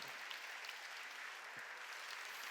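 A church congregation at a Sunday worship service claps together in a dense, continuous burst of applause that fills the room, steady throughout, with no voices on top.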